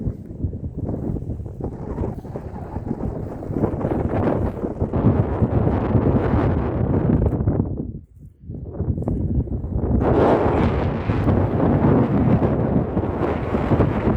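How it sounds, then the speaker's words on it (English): Strong wind buffets the microphone on a pebble beach beside a lighthouse on the Isle of Man, a loud, constant broadband roar that dips briefly to near quiet midway before surging back just as hard. "it's going to be quite windy, so you probably won't hear a word I'm going to say"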